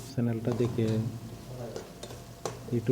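Potatoes being stir-fried in a pan for a home-cooked Bengali dish with eggplant and dried puti fish, giving repeated scraping and clinking strokes of a spatula against the pan over a low sizzle, with a voice talking throughout.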